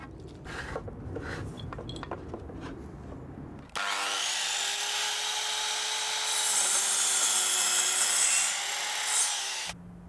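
Grooved wooden strips for a privacy fence are cut to length: a short stretch of scraping hand-rasp strokes, then a loud, steady power-saw whine running about six seconds before stopping abruptly.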